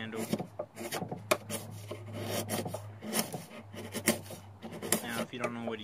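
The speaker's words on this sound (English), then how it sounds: "I'm using a chisel, but you can use your utility knife" A chisel shaves and rasps at wood while shaping a handle for a homemade toy rifle, making repeated close scraping strokes in an uneven rhythm, with a low steady hum underneath.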